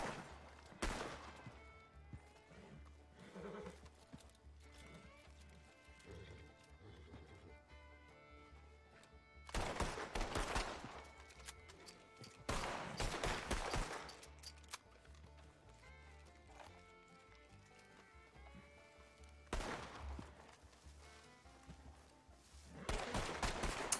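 Guns fired in a Western roleplay video game, including a sawn-off shotgun and a faster weapon, sounding as several sharp bursts of gunfire spaced through the stretch over quieter background game noise.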